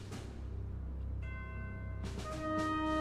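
Ringing bells in the game Rise of the Third Power: a low rumbling bed underneath, then two clear bell strikes whose tones hang and sustain, the second fuller and louder than the first.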